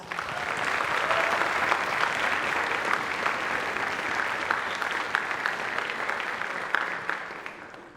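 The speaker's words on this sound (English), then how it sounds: "So please, give yourselves a round of applause." Audience at an awards ceremony applauding, a full burst of many hands that holds steady, then gradually thins and fades toward the end.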